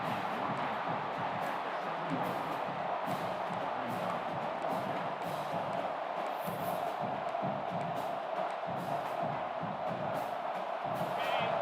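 A football stadium crowd at a Texas vs Clemson game roars steadily and loudly through a tense fourth-down play, a dense wash of cheering noise with a commentator talking over it.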